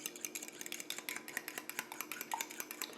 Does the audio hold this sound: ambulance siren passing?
no